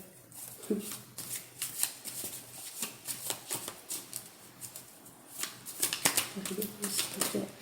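Tarot cards are shuffled repeatedly by hand, giving quick papery riffles and soft flaps in irregular bursts, close and fairly quiet, with occasional faint voice in the background.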